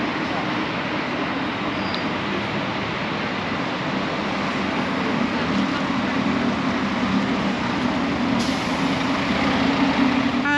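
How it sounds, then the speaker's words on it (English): A National Express coach pulls away in London, a steady loud engine drone and road rumble with a rising hum, continuous from start to end. "Coach has departed"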